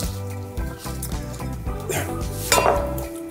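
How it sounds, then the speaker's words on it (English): Fresh spinach tossed into a hot pan to wilt beside sausage for a breakfast cassoulet, with close clattering of pan and utensils and a soft sizzle rising near the end. "I'm just gonna throw the spinach in"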